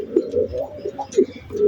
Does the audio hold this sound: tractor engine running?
no